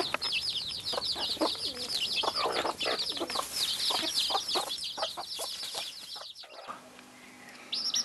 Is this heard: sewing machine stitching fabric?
no